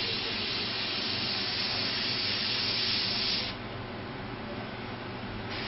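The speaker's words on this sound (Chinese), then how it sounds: "水微氧喷雾将产品变成小因子的形式喷出" An SP30 facial mist sprayer sprays continuously, a steady dense hiss that drops slightly in level partway through and carries on alone without talk.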